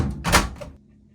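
An LG dryer door opens with a single short thunk and a brief clack, close and moderately loud, followed by a faint settling sound.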